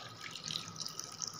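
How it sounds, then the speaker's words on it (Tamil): Water poured from a quarter tumbler onto jaggery in a cooking pan, a soft steady trickling splash that runs for about a second and a half, close and fairly quiet with no talking. "ஒரு கால் டம்ளர் அளவு தண்ணி விட்டுக்கோங்க"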